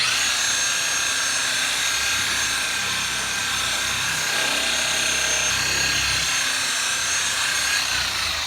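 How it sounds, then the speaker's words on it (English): A machine polisher fitted with a 3M polishing pad buffs dull car paint after rubbing compound, giving a steady, loud, continuous whirring drone that runs unbroken from start to finish. "Now we'll use our 3M polishing pad and go over it"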